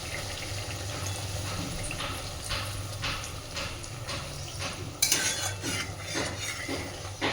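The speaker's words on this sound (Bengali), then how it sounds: "অল্প একটু জল দিচ্ছি" A little water, left from rinsing the mixer bowl, goes into a pan of potol posto (pointed gourd in poppy seed paste) cooking in spiced oil, with soft splashing, a sharp utensil clink and stirring scrapes nearby.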